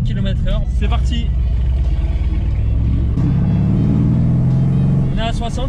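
Mercedes C63S AMG and BMW M4 Competition cruising at a steady 60 km/h, a continuous low engine and road rumble heard from inside, with someone talking over it at the start and end.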